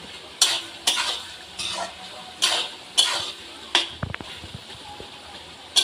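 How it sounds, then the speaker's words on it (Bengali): Spiced capsicum and onion fry in a pan for chilli chicken while a spoon scrapes and stirs at a steady beat, each stroke a close scraping sweep over a soft sizzle, ending in a few metallic clinks. "এবার ভালো করে এটাকে মশলাটাকে আর এই ক্যাপসিকাম সব মিশিয়ে নিচ্ছি ভালো করে ভেজে"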